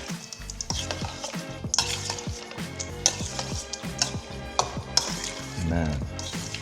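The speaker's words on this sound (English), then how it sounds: "I'm just gonna give this a stir." Salmon being stirred in a hot sizzling pan, with repeated clinks and scrapes of a utensil against the pan over a steady frying hiss, close and rhythmic, with no voices.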